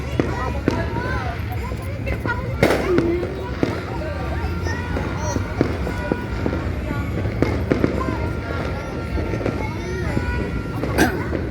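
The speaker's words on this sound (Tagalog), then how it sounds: "Marami daw, marami paputok sa dulo." Sharp firecracker bangs and pops burst irregularly at New Year, some near and loud, others distant, over a busy background of people talking.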